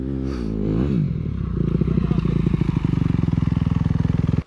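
A motocross bike ridden through a sand quarry, its engine loud and close with a rising rev early on, then a steady, rapid pulsing drone that holds strongly to the end.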